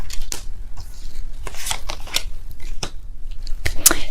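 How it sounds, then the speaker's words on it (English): Tarot cards shuffled by hand during a love reading, a run of quick papery riffles and flicks close up, with irregular bursts and brief pauses, no talking. "I will be pulling all the cards."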